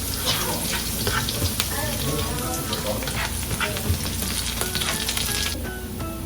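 Cumin seeds and chopped garlic sautéing in hot oil give a dense, loud, close crackling sizzle that runs steadily throughout, with light stirring.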